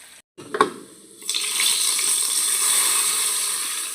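Hot coconut oil tempering with shallots, curry leaves and fenugreek poured into a Kerala coconut-ground fish curry: a brief clatter, then a loud, steady, hissing sizzle that carries on to the end.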